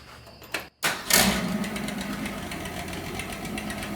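A turbocharged 1961 Ford Falcon engine cranks briefly, catches and fires up, then settles into a loud, steady, slightly uneven idle close by.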